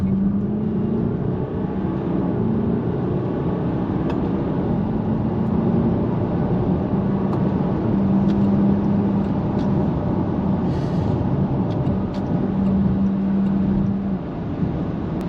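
A Jaguar F-Pace (X761) accelerating onto a dual carriageway, heard from inside as a steady low engine and road rumble with rising tonal drones, continuous and fairly loud throughout.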